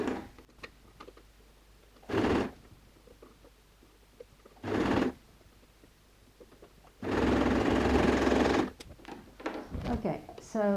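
A sewing machine stitches pleats into jersey stretch fabric for a raglan tunic, running in three bursts: two short ones, then a longer run, with quieter handling noise and a voice talking in the gaps.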